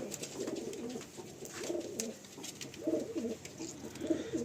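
Pigeons of the 35 Wale breed coo inside a loft at Lakhikantapur, with repeated throaty coos rising and falling in overlapping bursts against a soft background hiss.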